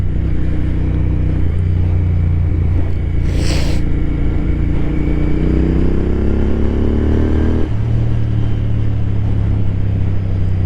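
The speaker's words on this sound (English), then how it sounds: "Engine sounds real good." A cafe racer motorcycle's engine and exhaust run loud and close, idling with a steady low rumble, briefly rising in pitch as the revs climb and then dropping back to idle.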